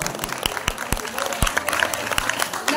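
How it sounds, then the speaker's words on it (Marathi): Audience at a college Ganesh festival dance event clapping for the co-anchor, a burst of lively applause with distinct, uneven claps standing out, fairly close and loud. "तर पूजा घोलेसाठी जोरदार टाळ्या वाजवा"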